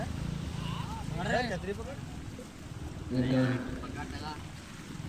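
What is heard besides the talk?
heavy monsoon rain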